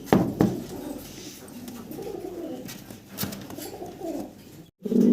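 Male pigeons of a large, show-quality breed, apparently Mondain, coo in repeated low throaty phrases, close and fairly loud, with a brief gap near the end before the cooing resumes.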